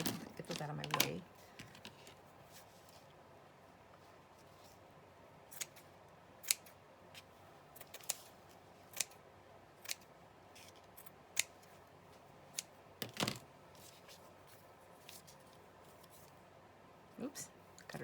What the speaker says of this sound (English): Super sharp scissors there and a blade.